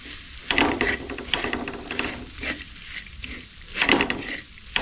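Coarsely crushed peanuts stirred and sautéed in a hot oil tempering for peanut chutney, giving a steady soft sizzle with scraping, rattling stir strokes that swell and fade irregularly, close by and with no talk.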